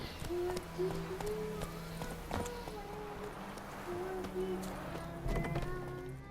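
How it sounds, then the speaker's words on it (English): Horse hooves in The Witcher 3 video game, a steady rhythmic clip-clop of the horse running while game music plays and someone talks over it. "So a little difficult to control the horse."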